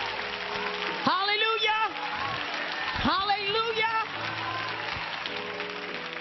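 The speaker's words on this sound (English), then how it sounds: "Everybody, just give him a hand clap." A worship congregation claps hands in praise, continuous clapping under a woman's loud, ringing shouts of praise over a live mic.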